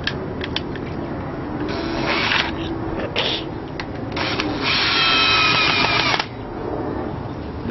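A power drill whirs close by in repeated bursts, driving screws into wood without pre-drilling while building a homemade beehive nuc box, the motor pitch rising and straining with short pauses between runs.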